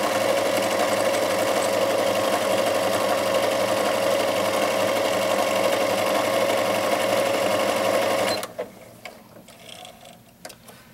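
A Janome DC1050 sewing machine overcasts fabric with a steady, close mechanical whir and fine rapid ticking for about eight seconds, then stops abruptly, leaving faint handling sounds.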